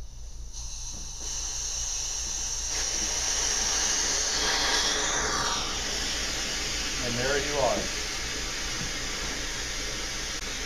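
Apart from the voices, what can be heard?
vacuum sucking water from sprinkler line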